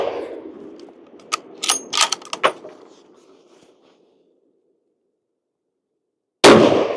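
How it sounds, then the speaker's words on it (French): Rifle shots fired while breaking in a new rifle barrel: sharp cracks and their echoes trail away into silence, then one abrupt loud report cuts in near the end. "Là, je vais tirer 3 coups."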